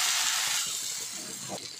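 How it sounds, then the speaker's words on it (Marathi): Nachni (finger millet) ghavan batter meets a hot oiled tawa with a loud, steady hiss that eases slightly as it settles, with no voices. "छान असं हे नाचण्याचं घावन अशा पद्धतीनं घालायचं आहे"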